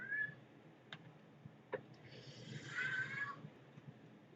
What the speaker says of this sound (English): would you not meow at the door and make me feel like I'm a horrible person for shutting you out of my room?